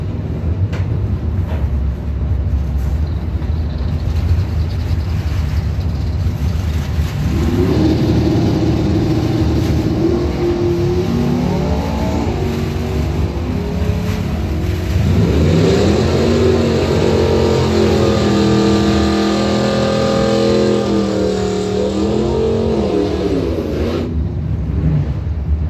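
A 1982 Chevy S10 and a 1972 Chevy Nova launch in a drag race, loud engine roar rising through shifting, revving pitch sweeps from both cars across the run, with a continuous crowd-and-track rumble underneath.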